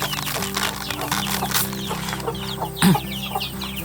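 One-month-old Betong chicks cluck and peep while being fed short-grain paddy rice, with a louder cluck near the end over a steady background hum.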